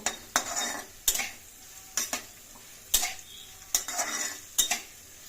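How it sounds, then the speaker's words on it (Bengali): Onions frying in oil in a pan while chicken biryani is cooked, with a steady soft sizzle broken by a handful of sharp clinks and scrapes of a utensil stirring against the pan. "তাতে প্রথমে তেলের মধ্যে পেঁয়াজগুলো দিয়ে দিলাম।"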